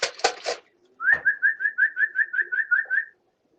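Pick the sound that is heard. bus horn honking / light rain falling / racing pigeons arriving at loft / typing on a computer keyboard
racing pigeons arriving at loft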